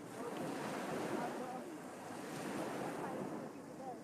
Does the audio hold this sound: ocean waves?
yes